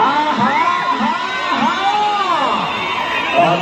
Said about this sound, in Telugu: గట్టిగా కేకలు రావాలా